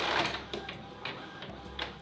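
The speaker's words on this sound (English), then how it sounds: "It's printing on Lavash!" Printer printing an image onto a sheet of lavash flatbread, with faint, quiet mechanical whirring and several short, rhythmic head passes and clicks across a brief stretch.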